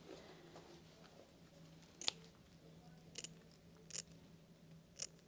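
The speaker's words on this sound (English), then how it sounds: "Cutting out any excess lace." Quiet, sharp snips of zigzag scissors cutting excess wig lace come one at a time, four or five spaced a second apart, over a low steady hum.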